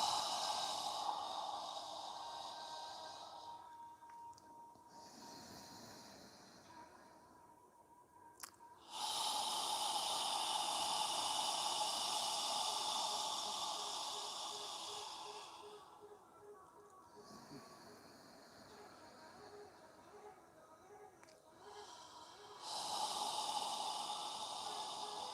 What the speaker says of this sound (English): As you exhale, imagine you're fogging a mirror with your breath.